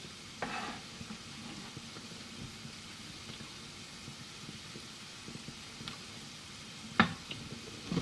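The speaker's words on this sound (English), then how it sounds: "We stir the porcini mushrooms around a bit" A quiet sizzle of porcini mushrooms frying in a pan, with occasional soft scrapes and a sharper clack of stirring near the end.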